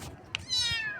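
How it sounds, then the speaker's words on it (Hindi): A kitten meows in one short, clear, close cry, with a faint click just before it and a quiet room around it. "म्याऊं, जी म्याऊं"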